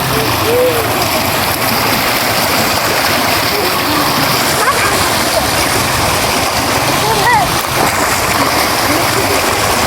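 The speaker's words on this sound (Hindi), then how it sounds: "ये पानी उधर सामने जो बड़ा चश्मा है वहाँ से आता है" Water gushes steadily from a large natural spring in a green village, a continuous close rushing and splashing that fills the whole stretch, with faint voices in the background.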